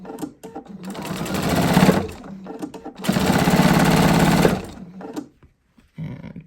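A sewing machine stitches quilt-as-you-go rows at a short stitch length, running in two loud bursts of rapid, even chatter separated by brief pauses and a quiet stop at the end.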